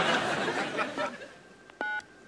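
Telephone number dialed on a handset as a television talk-show host calls an actor, heard as a few short DTMF tone beeps near the end, following a stretch of audience laughter and chatter.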